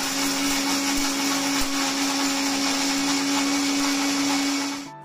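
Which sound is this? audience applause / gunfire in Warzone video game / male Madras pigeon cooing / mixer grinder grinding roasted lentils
mixer grinder grinding roasted lentils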